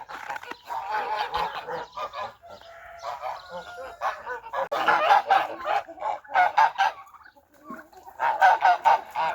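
A flock of domestic geese honks and cackles continuously in a cold farmyard, loud overlapping calls in bursts throughout, with brief talking mixed in.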